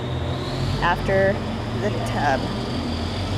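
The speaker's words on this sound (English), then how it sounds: "The traffic is definitely noisy here." Steady road traffic rumbles past a porch in Hot Springs, a continuous low drone of passing cars running under a person talking nearby.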